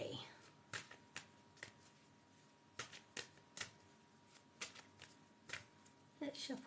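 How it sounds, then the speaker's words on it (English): Tarot or oracle cards being shuffled for a reading, a series of sharp riffling bursts and slaps at irregular intervals, close and fairly quiet, with a brief flurry near the end. "let's shuffle these cards"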